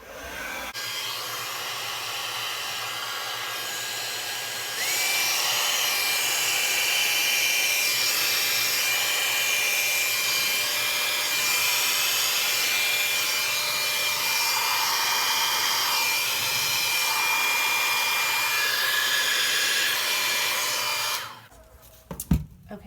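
Hair dryer blowing on an abstract painting, a loud steady whooshing roar close by that starts softer, rises after a few seconds, holds for about fifteen seconds, then cuts off with a few clunks.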